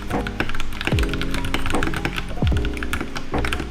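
Stock Akko 3061s R2 mechanical keyboard being typed on, a steady run of close, bright key clacks with a few heavier thuds, loud and continuous with no talking.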